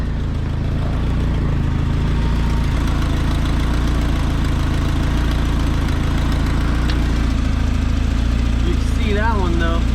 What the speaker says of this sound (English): there's a little exhaust leak in the header right there